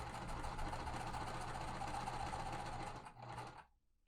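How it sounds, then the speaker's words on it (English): A sewing machine chain-stitches quilt pieces for a small lemonade-themed quilt, a close steady hum that runs evenly before slowing and cutting off near the end. "I'm just sewing till I get to the end"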